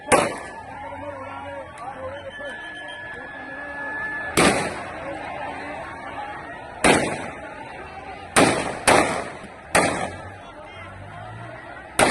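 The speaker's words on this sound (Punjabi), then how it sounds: "ਫਾਇਰਿੰਗ ਚੱਲ ਪਈ ਇਸ ਟਾਈਮ ਫਾਇਰਿੰਗ ਵੀ ਹੋ ਗਈ ਸ਼ੁਰੂ" Gunfire during violent clashes in Zira, Ferozepur district, Punjab: several sharp, loud bangs at irregular intervals, some in quick pairs, over a noisy outdoor crowd background.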